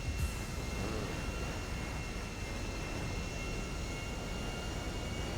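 A steady airplane engine drone from the video game GTA V holds as an even, continuous roar and hiss, unchanging throughout, without any voices.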